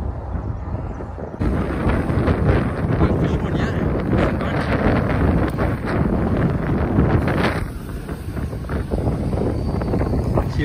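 Strong northeasterly wind buffeting the microphone at a St Lucia sea coast, a loud continuous roar that rises abruptly after the first second and holds steady throughout.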